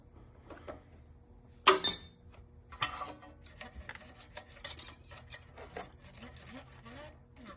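A wrench tightens a bolt on a Honda GCV 190 small engine. A sharp metallic clank comes first, then a run of raspy, grinding strokes and clicks, close up and fairly loud.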